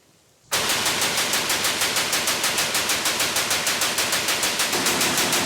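A minigun opens up abruptly and fires one long, loud, continuous stream of rounds with a fast buzzing rhythm that continues to the end.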